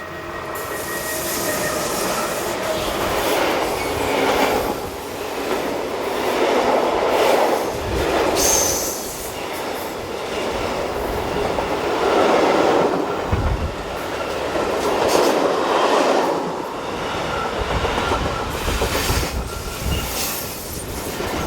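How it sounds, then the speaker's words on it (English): A northbound Chiasso to Mannheim freight train hauled by electric locomotives 185106 and 141 rumbles steadily past close by, with wagons clattering and wheels squealing over about twenty seconds. "185106 and 141 power this Chiasso to Mannheim freight north on Wednesday the 11th of July 2018."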